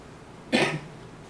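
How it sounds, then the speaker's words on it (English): A woman gives a single short, close cough in a quiet room while making cold process soap. "when you hear me coughing, it's not because I am sick."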